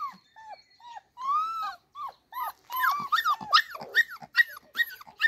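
An excited dog whimpering, yipping and giving short barks in quick irregular bursts, close to the microphone, growing busier and more urgent toward the end, with no talking.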